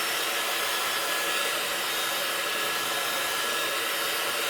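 Steady, close whoosh of a hot-air heat tool drying a stamped paper card after cleaning an acrylic block, a continuous broadband blowing roar with no talk over it.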